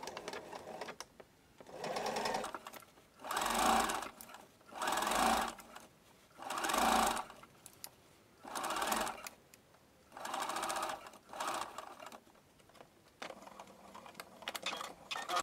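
A sewing machine topstitches the outer edge of the flap on a small snap-fastened bag with an inner pocket, running in several close, steady bursts separated by short pauses.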